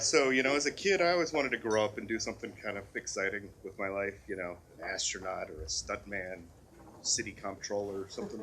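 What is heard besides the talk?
No everyday noises stand out.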